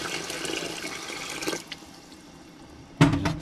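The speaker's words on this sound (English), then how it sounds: "I'm only going to pour half a quart in," Water pours into a pot of homemade hot dog chili sauce, a steady splashing stream that breaks off, leaves a quiet pause, then returns briefly with a louder gush near the end.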